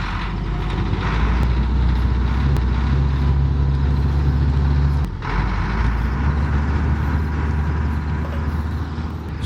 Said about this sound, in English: Then we heard a truck drive over the bridge above us.